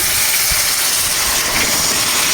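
Water poured into a hot pan of fried spices for a potol kofta curry, giving a loud, continuous hiss and sizzle that holds steady throughout.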